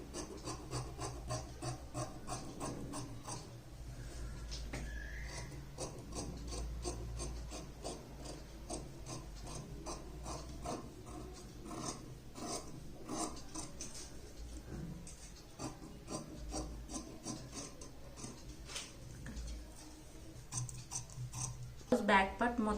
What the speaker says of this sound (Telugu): ఇప్పుడు మనం బ్లౌజ్ బ్యాక్ పార్ట్ కటింగ్ చేసేది